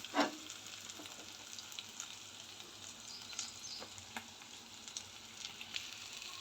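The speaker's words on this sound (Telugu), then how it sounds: "ఒక నిమిషం వేగాలి ఫ్రెండ్స్. అల్లం వెల్లుల్లి పచ్చి స్మెల్ అనేది పోవాలి." Ginger and garlic sizzle and fry in a pan for egg fried rice, a soft, steady crackle with occasional sharper pops, close and quiet with no voices.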